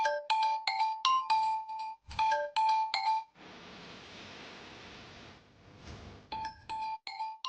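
A mobile phone rings with a bright electronic melody in repeated bursts, broken by a stretch of hissing noise before the ringtone resumes, clear and close.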